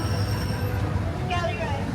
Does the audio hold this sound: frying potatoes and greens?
no